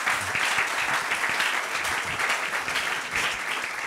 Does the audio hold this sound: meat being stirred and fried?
no